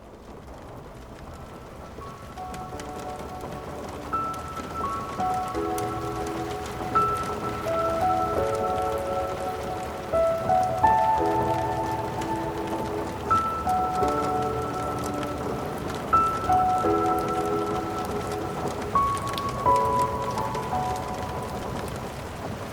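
Steady rain falls on a surface in a thunderstorm ambience, a dense constant patter heard close and alone, while soft sustained tones hold underneath.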